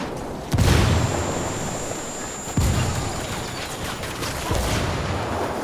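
Frag grenade explosions in the Ghost Recon Wildlands video game, three heavy booms spaced about two seconds apart, each followed by a rumbling, crackling tail.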